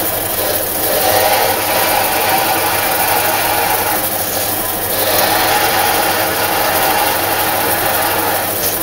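A bandsaw runs steadily while cutting wood for knife scales, a loud continuous motor hum and whine with slight swells in the cutting noise throughout.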